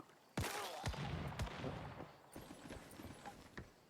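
An unstable bomber build in the shooter game Once Human sets off a series of sharp, punchy explosion bursts, several in quick succession near the start, followed by softer rumbling debris and crackle.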